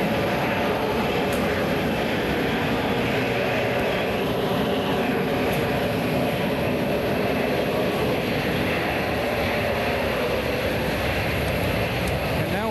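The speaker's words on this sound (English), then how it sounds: "show the capability of being able to deflect the airplane sideways in a lateral transition move as Jim comes over to his landing site for a" A 1987 airshow airplane at Moffett flying a lateral transition maneuver, deflecting sideways; its engine gives a loud, continuous, unbroken roar that holds steady throughout.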